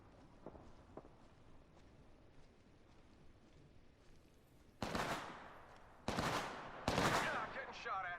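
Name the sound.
gunfire in a video game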